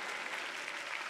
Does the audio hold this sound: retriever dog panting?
no